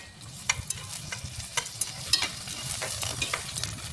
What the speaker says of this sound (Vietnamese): Dầu nóng thì mình sẽ cho hành, gừng, lá nguyệt quế, hoa hồi và phi cho thơm.